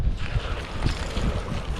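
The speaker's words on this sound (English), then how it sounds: "it is super windy out today" Strong wind buffets the microphone outdoors at a pond, producing a constant loud, low rumbling roar with no voices.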